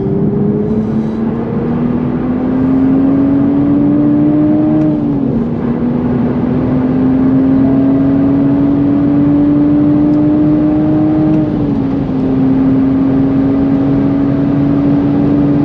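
A 2023 Toyota GR Supra with a manual transmission accelerates on a race track, its engine droning loud and close as the pitch climbs steadily through a gear, dips briefly at a shift, then climbs again.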